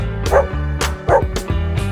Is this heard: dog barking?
yes